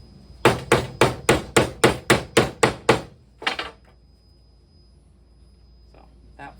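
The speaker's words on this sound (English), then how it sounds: "then usually you can align it right on top of the hole and hammer it in" A hammer strikes a wooden peg into its hole on a Codex Quest puzzle being assembled, ten sharp evenly spaced taps in a quick run, then one more after a short pause, loud and close, followed by quiet.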